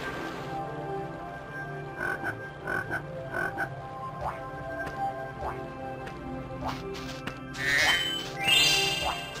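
A toad in the Summer Forest level of Spyro 2: Ripto's Rage croaks again and again in short rhythmic bursts, clear and close, over game music and effects, with a brighter burst of game sound near the end.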